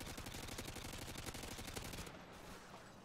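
Rapid automatic gunfire in Call of Duty Modern Warfare, aimed at shooting down a counter UAV: a dense, loud stream of shots for about two seconds, then a fading tail.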